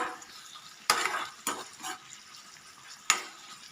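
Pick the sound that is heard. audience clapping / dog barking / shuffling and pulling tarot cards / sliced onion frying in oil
sliced onion frying in oil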